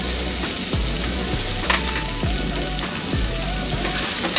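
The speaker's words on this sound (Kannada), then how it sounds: "ನೋಡಿ, ಈಗ ಟೊಮೆಟೊ ಎಲ್ಲ ಎಣ್ಣೆಯಲ್ಲಿ ಫ್ರೈ ಆಗಿದೆ." Tomatoes fry in oil with garam masala, giving a steady close sizzle with occasional soft stirring scrapes and pops throughout.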